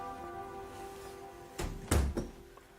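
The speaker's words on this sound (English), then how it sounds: "Close the door." An office door swings shut in an audio drama, a couple of soft thuds and a firmer closing knock over a faint steady room hum, no voices.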